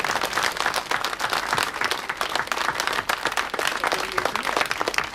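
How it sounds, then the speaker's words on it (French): Sustained applause from a crowd at a rally podium ceremony, dense and steady clapping throughout, a honoring a Belgian rally champion and former works Citroën driver. "on peut l'applaudir"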